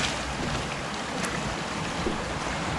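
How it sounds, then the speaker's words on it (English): Fast-flowing water of the Martha Brae River in Jamaica, heard from a raft, makes a loud, continuous rushing wash with wind buffeting the microphone throughout. "I said the river move fast."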